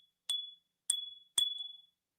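A small crystal or glass bell gives three separate bright clinks, each ringing clearly with a sustained tone that fades before the next strike, close and alone.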